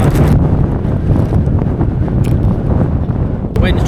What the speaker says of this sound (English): The wind's trying to take my crisps.